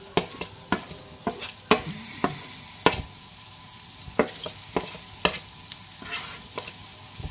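Shallots and garlic frying in oil in a pan for a homemade frittata, with a steady low sizzle broken by repeated sharp scraping clicks of a utensil stirring, close and fairly loud, no voices.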